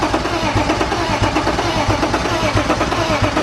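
A BMW E36 with an M52B25 inline-six cranks on the starter during a compression test, a steady, close, rhythmic churning that pulses evenly and keeps going without catching.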